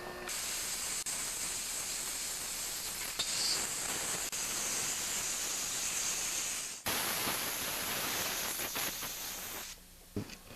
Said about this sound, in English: Next I'm going to grab the air compressor and blow out the groove and the little holes over here.